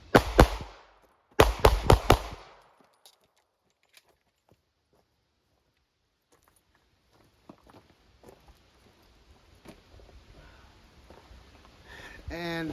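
Gunshots ring out while the shooter runs backwards: two sharp, loud bursts of rapid shots in the first two seconds, then faint footsteps, rustling and clicks of gear, with a louder clatter at the end.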